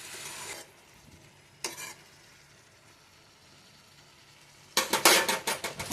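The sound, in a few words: stirring a fenugreek tempering sizzling in a pan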